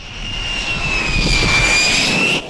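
A Lockheed Martin F-35 stealth fighter jet simulator set up in a hangar produces a loud, continuous jet engine roar with a high whining tone, cutting off abruptly near the end.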